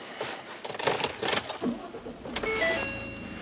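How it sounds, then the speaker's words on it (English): Keys jangle and the ignition of a pickup truck is turned, followed by the engine starting and settling into a steady idle, recorded close up inside the vehicle. "So let's turn the truck on because you're not going to get much results without the vehicle on."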